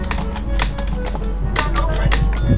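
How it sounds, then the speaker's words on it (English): A loud computer keyboard clatters in quick irregular bursts of sharp keystrokes, played close up during a Roblox game session, with a low hum beneath and some voices alongside. "My keyboard is really loud as well."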